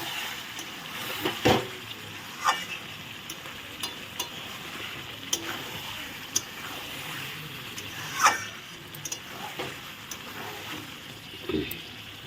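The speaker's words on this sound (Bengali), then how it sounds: "ঢাকাটা তুলে নিলাম দেখো এখন আবার নেড়ে চেড়ে দিলাম" Chicken curry is stirred in a frying pan with a soft steady sizzle, broken by occasional sharp scrapes and clinks of the spoon against the pan.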